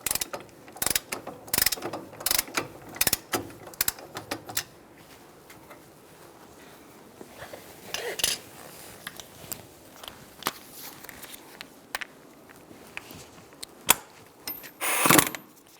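A ratchet snugs up the brake caliper bolts on a 2007-2012 Nissan Altima, with quick bursts of loud clicking pawl strokes broken by pauses and scattered single clicks, close by and without talk.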